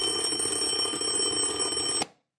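A loud, steady electronic alarm tone rings continuously, then cuts off abruptly into near silence.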